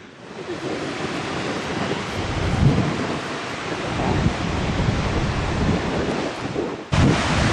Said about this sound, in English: And I can strongly hear the waterfall now.